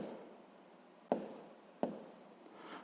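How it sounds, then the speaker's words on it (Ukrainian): Pen scratching on paper during a sixth-grade math exercise, a soft continuous scribble with two sharper taps as strokes land, quiet and close with no talking. "Так, записуємо."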